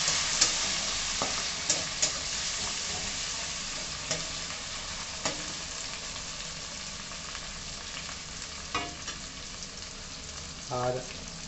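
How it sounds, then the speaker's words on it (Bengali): Tomato frying in a pan with onion, ginger and garlic for a simple chicken curry, stirred so the spoon scrapes and clinks now and then over a steady, broad sizzle. "টমেটোটাও ভালো করে একটু কষিয়ে নেবো।"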